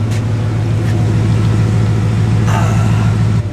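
A Porsche Cayenne engine idles steadily with a low, even rumble, loud and close, with no one speaking.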